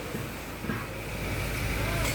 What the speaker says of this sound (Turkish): Ateşledik. Arabamız çalıştı.